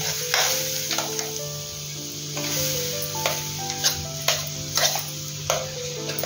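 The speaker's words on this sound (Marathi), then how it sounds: "हे खोबरं मी जरा मिक्सरला फिरून घेतलं, तर ते आता मी परतवून घेते तुपावरती" Ground coconut roasting in ghee for traditional coconut barfi, a steady low sizzle with occasional scraping stirs and light clinks, close and moderately loud, no talking.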